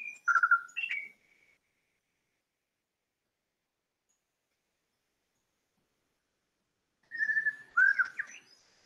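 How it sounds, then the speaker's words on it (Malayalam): A white-rumped shama sings two short bursts of clear, whistled phrases, one at the start and another after a long silence, close and distinct. "വൈറ്റ്രം ക്ഷാമ എന്ന് പറയുന്ന പക്ഷി"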